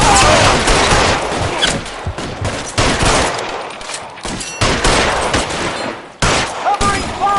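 Loud, close gunfire fills a shootout in the video game LA Noire, with rapid overlapping shots and bursts rattling continuously.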